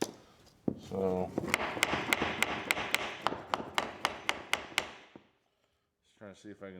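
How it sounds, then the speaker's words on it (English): Repeated sharp knocks on a cured epoxy table piece as someone tries to knock it loose, about a dozen evenly spaced hits in a steady rhythm, close and loud, with brief talking before and after. "just trying to see if I can knock it loose without driving a shim underneath it"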